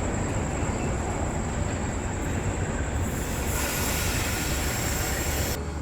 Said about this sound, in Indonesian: Di sini jalur 5 melintas langsung kereta api Jayabaya.